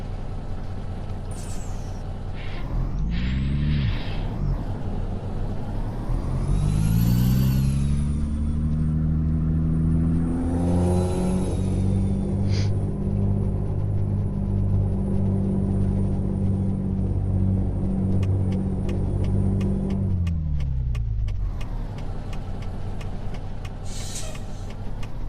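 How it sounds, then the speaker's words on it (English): Heavy road traffic of cars, trucks and buses roars past close by, with loud engine rumble, rising and falling pass-bys and a hiss like an air brake, continuous throughout. "Seems like there's an awful lot of traffic."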